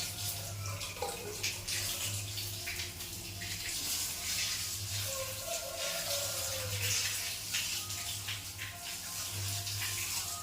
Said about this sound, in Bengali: বন্ধুরা এই দেখো জলটা ভরা হয়ে গেছে